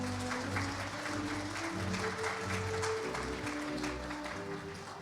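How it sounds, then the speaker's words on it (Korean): At a rural award ceremony, an audience gives sustained clapping for the head of the judging panel, a steady, even wash of applause with music playing beneath it. "위원장님께 큰 박수 부탁드립니다"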